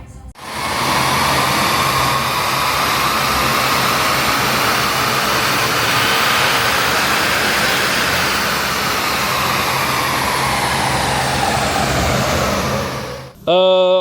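A used car's engine roars continuously on a dyno, holding a loud, steady high-rev drone for over twelve seconds before cutting off abruptly near the end.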